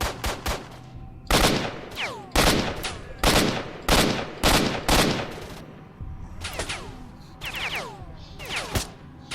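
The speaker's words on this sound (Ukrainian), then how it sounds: "А хто ще шмаляє?" Rapid bursts of automatic gunfire and single shots from S.T.A.L.K.E.R.: Shadow of Chernobyl, loud and close, in irregular volleys with short gaps and echoing tails, no talk over them.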